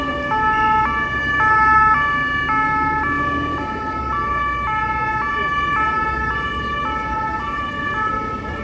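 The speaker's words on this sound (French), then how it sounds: "des camions de pompiers qui dévalaient toute sirène hurlante le boulevard de Port-Royal" Fire truck sirens wail with a repeating two-tone pattern along a boulevard in Paris, loud and continuous over city traffic rumble, the alternating pitches cycling steadily throughout.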